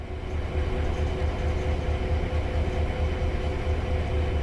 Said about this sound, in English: we can hear the compressor chugging away behind us